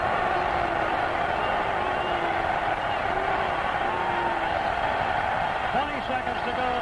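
Steady roar of a Los Angeles Coliseum stadium crowd on its feet cheering after the Rams beat the Minnesota Vikings in a 1978 NFL playoff game, a broad distant wash under continuous radio play-by-play commentary.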